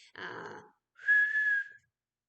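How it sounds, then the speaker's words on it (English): A short breathy burst followed by a single sustained whistled tone, close and fairly clear, with silence after. "I can't whistle very good, but that's another sound the kids often like"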